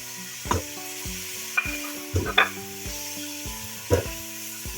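Boiled chicken mince is stirred in a pan with a spoon, several distinct scraping knocks against the metal over a low sizzle, close and clear with no talking.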